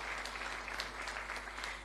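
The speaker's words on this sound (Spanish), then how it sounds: "Los aplausos, por favor." An audience applauds at a formal honorary session of the Cochabamba Departmental Legislative Assembly, a soft, even patter of many hands with a low steady hum beneath it.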